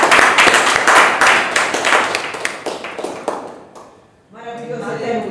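Church congregation applauding the name of the Lord at an evening service, a loud burst of dense clapping that fades out, followed by a preacher speaking over a reverberant sound system.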